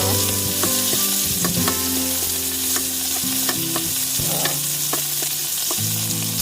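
Sautéing for milkfish adobo with tomatoes in a pan: loud continuous sizzle and frying with repeated clinks and scrapes of a utensil stirring, close up, no voices.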